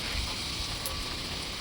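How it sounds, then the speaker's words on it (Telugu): Rain falling outdoors during truck work near Paderu: a steady, dense hiss of rain, even and continuous throughout the short stretch, with no voices. "వర్షం పడుతుంది. వర్షంలోనే వర్క్."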